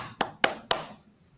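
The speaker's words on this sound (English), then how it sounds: "Shall we clap?" Three sharp hand claps land in quick succession at an introduction on a cooking show where tacos are being made, followed by near silence.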